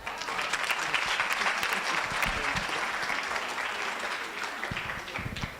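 Sustained audience applause fills a breakfast event in Polokwane, Limpopo, welcoming Miss South Africa 2022, a steady dense clapping that holds at full strength throughout before easing slightly at the end.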